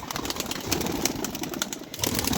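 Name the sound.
pigeons at a pigeon farm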